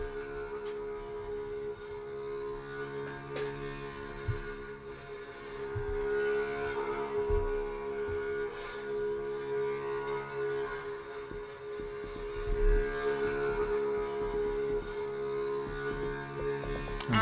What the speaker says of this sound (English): I just pulled up a track here that is from Battlefield 5.